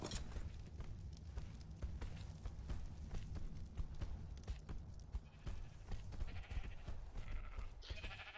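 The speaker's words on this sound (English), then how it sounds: "We got a lot of sheep too." Sheep bleat repeatedly in the video game ARK, several overlapping calls over a dense, continuous game soundscape of footsteps and ambient noise.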